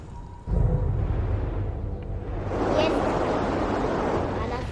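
Steady rushing wind in the Never Alone video game, a broad continuous gust that swells and grows louder partway through, with a brief softer start before it kicks in.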